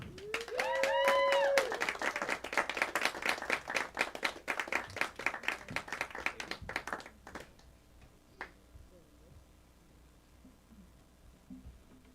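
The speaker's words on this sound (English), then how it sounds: "gives it up for Michael and gets him on stage with a warm applause" Warm audience applause welcoming a performer named Michael onto the stage at a music showroom, crisp dense clapping that peaks early then thins to scattered claps and fades out near the end as a few voices murmur.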